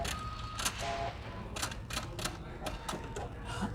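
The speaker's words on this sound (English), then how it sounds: "and now it's going to sew in reverse." Pfaff Icon sewing machine stitching fabric at a sewing expo, a steady close mechanical whir broken by rapid, sharp clicks and clacks in an uneven rhythm, set against busy room noise.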